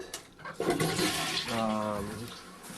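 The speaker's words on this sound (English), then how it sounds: "there's nothing's better at a cooking show than the sound of a toilet flushing" A toilet flushes nearby, a short rushing gush of water that swells and drains away over a few seconds.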